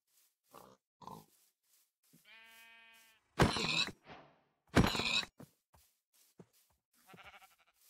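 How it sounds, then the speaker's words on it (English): Several short sheep bleats from a flock in the video game Minecraft, sounded one after another with pauses between, one drawn-out tonal bleat and a couple of louder bursts, alone with no talk. "Oh, there's a heap of sheep over there."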